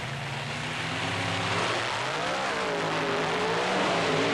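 Monster trucks race, the black Dodge Rampage against Bigfoot, their big engines roaring loud and continuous, pitch rising and shifting as they accelerate through the run, with no voices heard.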